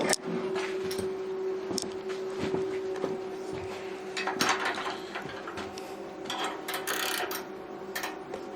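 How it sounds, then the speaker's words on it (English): Wrenches work loose the tie rods on a 1984 Cat Elm wood stove, a run of close metallic clicks and scrapes with brief clanks over a steady hum, and no talk. "So the first step will be to grab some wrenches and begin taking the tie rods apart."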